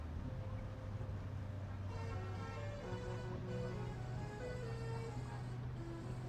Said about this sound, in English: Still that cacophony of air horns from the infield from our show trucks.